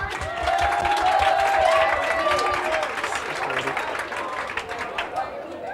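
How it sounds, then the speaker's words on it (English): A poetry slam audience applauds and cheers, dense clapping with voices mixed in, loud at first then easing slightly. "Everyone give a big round of applause."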